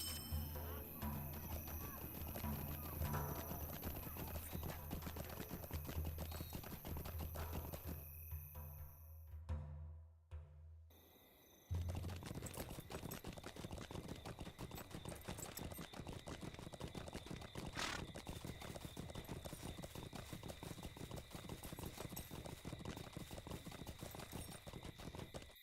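A horse in the video game LOTRO clip-clops and neighs amid game music and ambience, steady hoofbeats running through most of the stretch, briefly dropping out to near silence before resuming.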